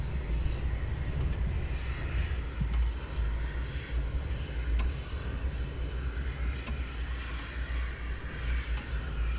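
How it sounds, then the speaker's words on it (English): A Dash 8-300 turboprop taxis out at London Luton Airport with a steady, moderately distant engine drone and low rumble, joined now and then by faint high clicks. "The 8300 now taxiing out for runway 25 here at London Luton Airport."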